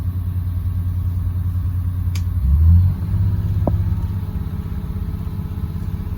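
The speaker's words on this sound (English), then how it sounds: "This is fast idle." A vehicle engine runs at fast idle with a steady low rumble while air pressure bleeds down, with a brief louder swell near the middle and a couple of faint clicks.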